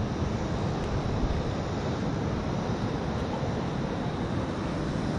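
Salt water surf rushes in with a steady, broad wash of waves and wind noise close to the microphone, no voices.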